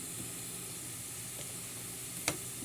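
Chicken feet go into a pan of browned garlic and onion for adobo, a soft steady sizzle with a couple of faint knocks and one sharper clink near the end, with no voices.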